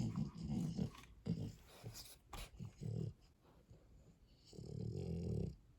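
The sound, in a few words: dog snorting and growling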